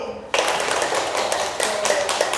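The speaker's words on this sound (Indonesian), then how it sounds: "Tepuk tangan untuk kelompok C." Classmates applaud group C in a classroom, a steady burst of many hands clapping that starts abruptly after a brief quiet moment and continues close by, with a faint voice mixed in.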